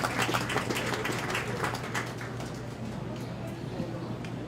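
Steady applause from an audience in a livestock show ring at a county fair beef show, dense, even clapping that holds through and gradually thins, with faint background bustle.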